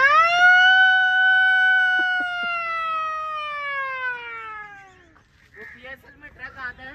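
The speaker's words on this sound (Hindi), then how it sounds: "हर चौके छक्के बाद तो यहाँ ये सायरन आएगा।" A single loud wailing siren tone at a cricket match, played after fours and sixes, sliding slowly downward in pitch for about five seconds, then fading as people start talking.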